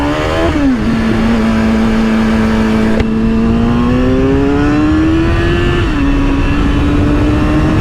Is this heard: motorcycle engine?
yes